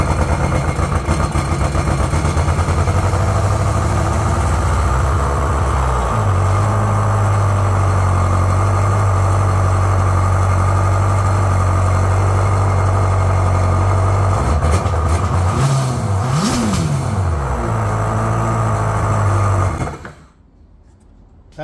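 Kawasaki SXR 1500 stand-up jet ski engine, converted and primed with ether, running steadily at a loud idle with a low throbbing drone, revving briefly near the end before cutting off abruptly.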